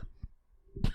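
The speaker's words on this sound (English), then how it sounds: "I had a cough." A single short cough bursts out near the end, close and fairly sharp, after some quieter throat sounds and near-silence.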